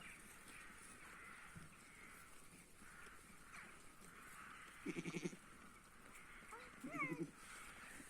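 Sheep bleat twice in short wavering calls over a background of outdoor ambience and faint birds, moderately distant.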